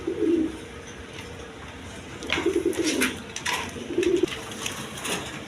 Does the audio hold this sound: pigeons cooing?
yes